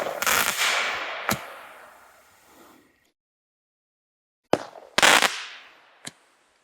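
A TNT single-shot firework with a fish effect: a loud launch whose crackling tail fades over a couple of seconds, then silence, then sharp bursts and a final pop.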